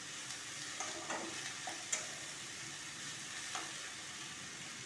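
Cabbage fries softly in a pan with a faint steady sizzle, broken by a few light scrapes and taps as it is stirred, with no voices.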